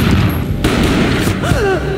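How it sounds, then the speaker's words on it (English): A single booming gunshot in the shooter game Max Payne, loud and close, with a muffled low thud under a continuous game soundscape and a brief slow-motion sweep afterward. "A gunshot boomed and she fell down in slow motion."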